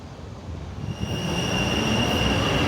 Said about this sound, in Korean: 지하철 내렸습니다. 우리가 타고 온 지하철이에요. 5호선.